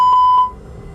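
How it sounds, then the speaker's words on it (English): An Airbus A320 cockpit fire warning test sounds two sharp, loud electronic beeps in quick succession, then cuts off, leaving a quiet hum. "I'll perform a fire warning test before starting the APU."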